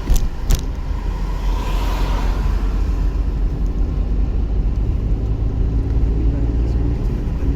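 A car engine rumbles steadily during a driving lesson, a low, continuous drone with a couple of sharp clicks at the start and no clear talking.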